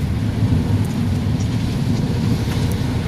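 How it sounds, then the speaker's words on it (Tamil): Heavy rain pours down at night in Erumeli, Kerala, a dense, steady roar of downpour with a deep low rumble and no voices. "இங்கே நல்ல மழை செம்மையாக மழை அடிக்குது"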